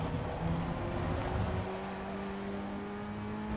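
A Ray FF1600 Formula Ford race car in the iRacing sim at Rudskogen runs at full throttle, its engine a steady close drone that climbs gradually in pitch, heard alone without talk.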